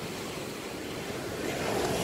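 Ocean surf washes onto Stockton Beach in a continuous broad roar, fairly soft and distant, with a slight swell toward the end and no voices.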